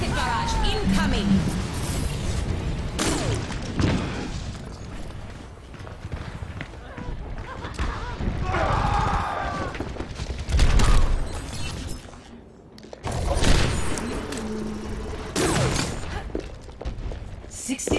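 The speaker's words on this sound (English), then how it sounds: "Rocket barrage incoming!" Rocket barrage explosions in the Overwatch shooter: repeated loud, broadband blasts and thuds burst through the match in several waves over hectic gameplay, with voices heard among the combat noise.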